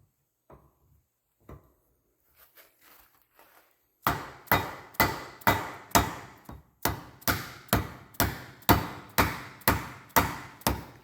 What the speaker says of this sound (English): this is a dead blow hammer